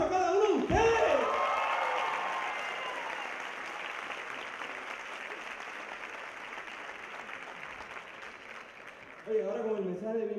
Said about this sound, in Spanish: ¡Un fuerte aplauso a cada uno de ustedes!